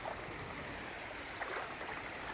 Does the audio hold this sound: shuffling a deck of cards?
no